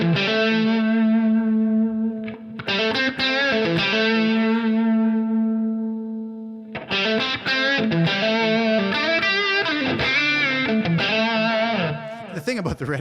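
An electric guitar with heavy distortion, picked with a Red Bear pick, rings out a long sustained chord that slowly decays, then launches into a busy, chugging riff of picked notes and chords, loud and close.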